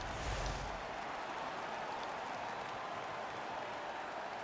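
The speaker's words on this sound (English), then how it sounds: "The home crowd is ecstatic." A home crowd in an NHL hockey video game arena roars and cheers after a fight, a steady loud wash of crowd noise and applause throughout.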